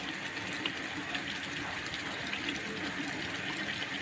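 Fried chicken tipped together with its oil into a cooking masala sets off a steady, fairly faint hiss and bubbling with no clear breaks, while liquid rushes in.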